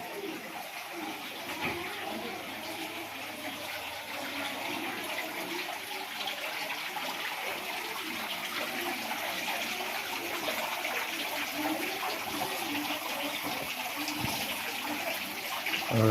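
Water flows steadily in a nature-themed Ganesh festival decoration, a continuous soft splashing trickle with faint background voices throughout.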